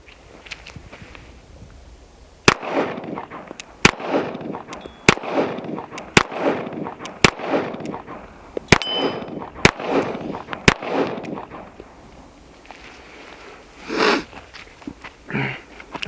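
A Tisas 1911 .45 ACP pistol caked in mud fires a string of about eight sharp, loud shots at a steady pace outdoors, followed by brief breathy sounds and movement.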